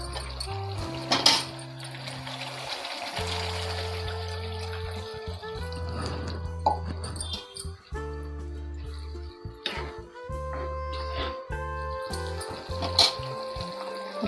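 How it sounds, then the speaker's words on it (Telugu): Water is poured into a pan while a paneer curry cooks, making a steady running splash in a kitchen under a constant low hum, with faint clinks here and there. "ఇప్పుడు మనము కొంచెం వాటర్ వేసుకుందాము."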